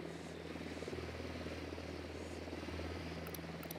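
Helicopter in the video game Ghost Recon Wildlands, a steady droning rotor and engine roar holding at even loudness throughout, with no talk over it.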